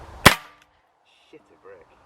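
A single sharp crack from an Umarex HDP 50 air pistol being fired, loud and close, followed by quiet with a couple of faint small sounds.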